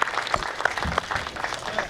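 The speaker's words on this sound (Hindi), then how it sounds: "तालियां बजा दीजिए।" A short burst of dense audience applause, many hands clapping together at a steady moderate loudness, with no voices standing out.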